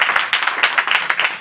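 A child claps hands in a quick, slightly uneven run of about a dozen light claps, close and fairly loud, with no pauses.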